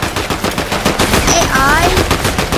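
Rapid automatic gunfire rattles loudly in a Fortnite fight against bots, a dense, steady burst of shots lasting throughout.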